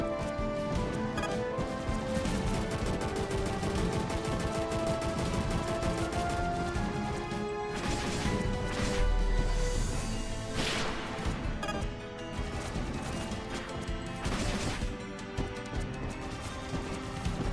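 A video game's big explosion attack sets off a series of sharp crashing bursts and booms over a dense game soundtrack, with several loud impacts clustered in the second half of the stretch.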